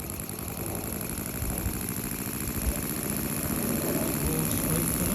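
A V-twin steam engine runs on compressed air from a compressor. It gives a steady, loud, continuous mechanical drone with a fast chuffing pulse that holds unchanged throughout.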